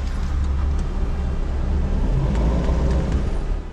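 A V8 car engine, with the car's rear raised while each gear is tested, runs steadily with a low, continuous rumble and mechanical hum, close and fairly loud, without talk.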